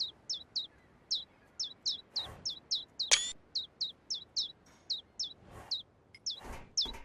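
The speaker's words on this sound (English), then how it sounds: "Hello, you little, birds." Video game songbirds chirp in a steady, repeated rhythm of short bright calls, close and clear, with a brief rising whistle-like sweep partway through and soft rustling underneath.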